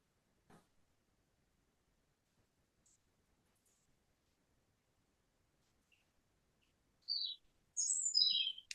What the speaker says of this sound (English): these last birds are singing their songs